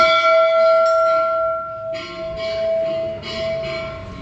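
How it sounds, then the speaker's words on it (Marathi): A large temple bell at Shri Siddheshwar Mandir in Sudumbare, Maval rings with a loud, sustained metallic hum and fresh strikes at steady intervals, each adding a bright burst over the lingering tone. "इथे भली मोठी अशी घंटा आहे"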